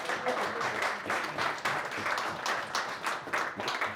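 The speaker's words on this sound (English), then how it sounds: "You can clap." An audience at a panel event on the war in Ukraine claps steadily, with full, sustained applause and slight swells lasting the whole stretch and no speech over it.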